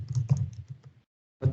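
Keystrokes on a computer keyboard during coding talk, a cluster of soft clicks and taps over about a second, then a pause before another burst of typing, fairly close to the microphone.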